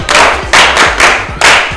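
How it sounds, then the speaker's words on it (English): A school class claps for the girls after an essay is read: four loud, closely synchronized bursts of clapping at an even pace, with dull thumps underneath, close and with no talk. "clap for the girls"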